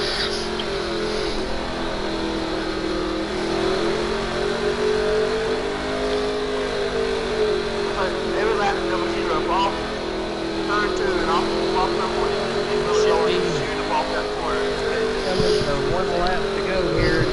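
Super late model race cars roar steadily around Bristol Motor Speedway, engines droning continuously under commentators talking throughout.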